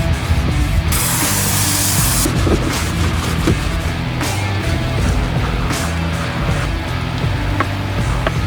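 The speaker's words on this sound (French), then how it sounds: "C'est bizarre de réutiliser ce nettoyeur de pression." A small pressure washer with a thin hose and tiny spray gun hisses while washing a car outdoors, a loud burst of spray near the start followed by continuous rough spraying and clatter.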